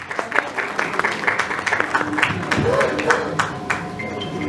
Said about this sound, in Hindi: जोरदार तालियां मनोज जी के लिए।